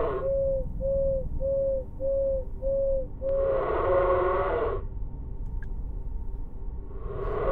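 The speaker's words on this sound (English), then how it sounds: "Although this one seems to hoot a few more times in a row." A bird in the horror video game Crow Country hoots about eight times in a quick, even series of soft tonal calls, followed by bursts of broadband game noise over a low background hum.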